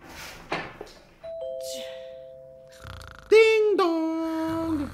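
An indoor doorbell rings with a clear two-tone chime, followed by a voice loudly imitating the ding-dong in a sung tone, with brief talk before it.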